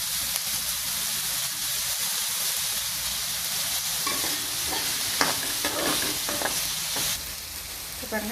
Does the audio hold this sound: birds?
no